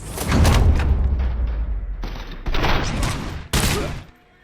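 9mm gunfire in the video game Robocop: Rogue City: a dense burst of loud shots with heavy low booms, followed by a few more separate sharp reports, close and intense.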